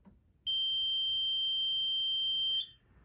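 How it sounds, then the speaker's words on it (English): A single steady, high-pitched electronic beep from a Solinst interface meter, signalling its probe is in LNAPL, sounds continuously for about two seconds, clear and close, then cuts off abruptly. "it will beep continuously like this."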